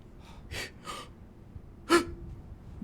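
A voice imitates a gasp: a couple of quick breathy inhales, then one sharp, louder gasp with a brief voiced catch, close and alone against quiet background.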